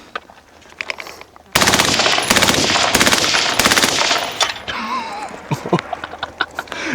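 FightLight MCR belt-fed rifle in FRT mode firing a long, very rapid burst of loud close gunshots, followed by scattered lighter clatter and a brief vocal sound.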